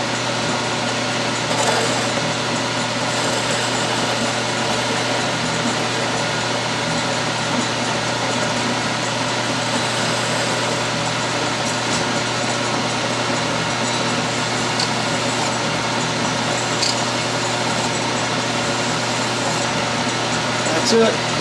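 A metal lathe faces off a part for a rebuilt Empire hot air engine, holding a steady whirring machine hum with a thin high whine that runs unbroken and fairly loud for about twenty seconds.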